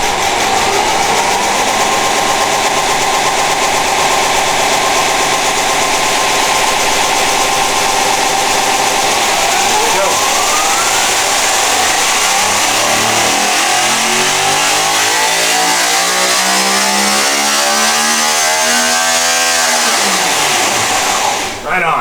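A Sorceress 640ci Pro Mod big-block engine on a dyno runs at a loud steady pitch, then sweeps up smoothly through a long rising rev toward 10,000 RPM, close and continuous with a voice over it.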